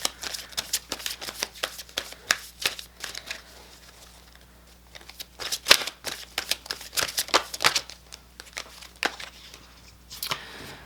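Tarot cards being shuffled by hand, a quick series of crisp riffling and slapping bursts that come in uneven clusters with short pauses between them, close and fairly quiet with no talking.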